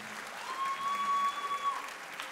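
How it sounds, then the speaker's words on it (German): A crowd applauds steadily at an opening ceremony, a soft continuous wash of clapping heard from a distance, with a faint thin tone running through the middle. "Das ist euer Applaus."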